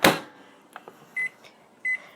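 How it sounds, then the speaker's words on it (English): A microwave oven heating a single green Sour Patch Kid gives a sharp clunk at the start, then faint soft clicks and two short high beeps, close and with no talk. "I'm going to heat up one green Sour Patch Kid in the microwave for 15 seconds"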